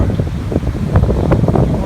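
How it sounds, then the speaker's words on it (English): Gusty wind buffets the microphone on an exposed, cold mountain trail of the Appalachian Trail between Erwin and Harbour Mountain, near a riverside campsite, a steady low rumble with irregular bursts throughout and no clear talk. "Sorry about the wind, but it's windy and it's cold right now too"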